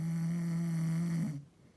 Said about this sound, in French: c'est une petite ronflette.